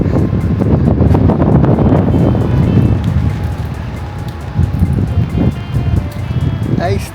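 Strong wind buffets the microphone at the top of the Leaning Tower of Bautzen in Germany, a loud, steady low roar with gusts that ease slightly midway and then pick up again.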